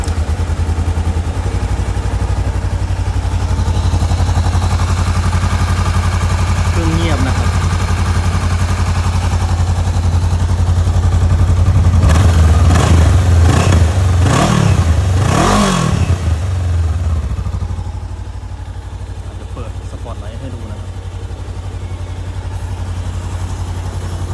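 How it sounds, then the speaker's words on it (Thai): A 2018 Honda CB500X motorcycle engine with a non-original exhaust rumbles steadily at idle, revs up sharply a few times in loud bursts, then settles back to a lower idle. "จะมาสตาร์ทให้ฟังเสียงเครื่องยนต์นะครับ"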